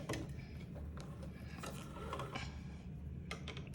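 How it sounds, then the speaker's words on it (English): A sewing machine runs back and forth in short bursts to tack two ends of ribbon together while lengthening a dress, with a steady mechanical whir and some clicking throughout. "Just kind of go back and forth a couple times and tack the ribbon together."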